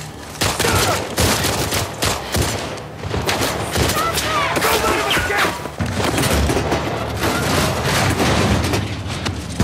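Heavy gunfire in The Last of Us Part II as Yara shoots Isaac, a loud, sustained fusillade of shots and thuds packed densely together, mixed with shouting voices and chaotic action throughout.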